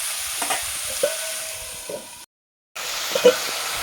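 Shrimp, pumpkin and potato curry being fried and stirred in a pan, a soft sizzle with intermittent scraping stirs, close and moderately quiet, broken by a brief silent gap.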